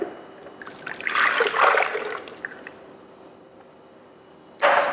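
Soy milk is poured into a blender, a splashing trickle that swells and then tapers off, followed by a short louder splash near the end; close and alone, no talk.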